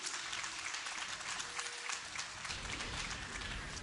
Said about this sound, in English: let me hear you cheer in the audience, cheer at home, cheer whatever you're doing